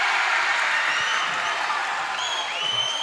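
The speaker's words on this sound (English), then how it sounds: "The crowd gets loud." A basketball crowd in a gym roars steadily during free throws at a Scott City versus Colby high school game, a dense wash of cheering and applause with a few shrill whistles rising near the end.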